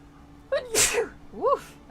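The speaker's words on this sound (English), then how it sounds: "Just suddenly sneeze." A single sudden human sneeze bursts out loud and close, with a sharp inhaled lead-in and an explosive release, followed by a brief voiced exhale, set against quiet background tones from a World of Warcraft game session.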